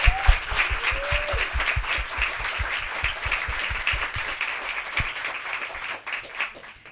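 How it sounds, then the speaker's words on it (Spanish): An audience applauding steadily for several seconds, dense clapping that fades slightly toward the end, with a brief voice near the start. "Un aplauso, por favor."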